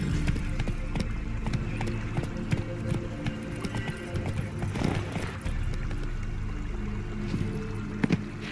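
Hooves of the horse Roach gallop in a video game, a fast rhythmic clip-clop that keeps on steadily and fairly loud, with a brief swell of other noise midway.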